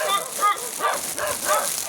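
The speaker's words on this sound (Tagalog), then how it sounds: "May asong tumatahol, guys." A dog barks repeatedly somewhere outdoors, the barks coming every half second or so, fairly distant and mixed with other voices.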